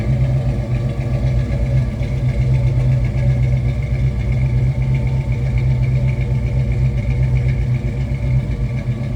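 A 1965 Ford Mustang's 289 V8 idles with a steady, close, low rumble, holding even and loud throughout with no voices over it.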